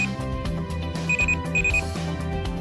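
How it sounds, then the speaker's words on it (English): A MED Q medication pill dispenser sounds its alarm: repeated short high-pitched electronic beeps in quick pairs, clear and fairly loud over a soft musical backing. "The alarm starts soft and grows louder for 5 minutes and then shuts off."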